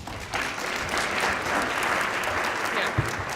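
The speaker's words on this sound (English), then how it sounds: "a last big round of applause for all of our ERS presenters" An audience at an astronomy town hall applauds for the presenters in a dense, steady round of clapping that holds at an even level throughout.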